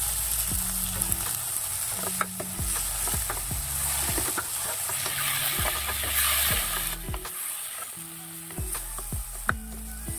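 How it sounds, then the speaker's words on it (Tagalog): Tomatoes and fish sauce sizzle steadily as they fry in a pan, with a continuous close hiss and repeated stirring scrapes throughout. "At this point, ilalagay ko na ang aking tomatoes."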